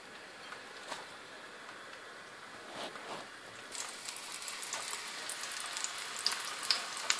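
Sangam kebab patties shallow-fry in under two tablespoons of oil, a faint sizzle that thickens and grows brighter partway through, scattered crackles and spits near the end.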